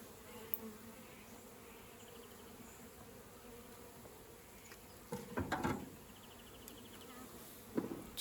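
Bees hum around swarm traps, a soft, continuous drone in the background with a few closer, louder buzzing passes as insects fly near, faint overall and with no voices.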